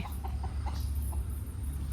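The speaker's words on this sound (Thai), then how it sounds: "นี่ไก่ที่วัดนะคะ" Chickens clucking at a Thai temple, a few soft, close clucks over a steady rumbling outdoor background with no voices.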